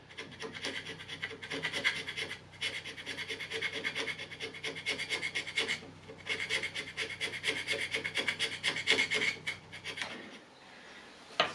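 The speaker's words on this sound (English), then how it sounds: "just a little bit of hand scraping, but it keeps me warm." Hand scraping on a metal lathe cross slide: a steady run of close, dry rasping strokes in quick rhythmic bursts, with a short pause near the middle and a quieter stop near the end.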